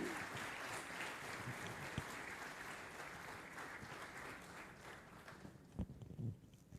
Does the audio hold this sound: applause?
yes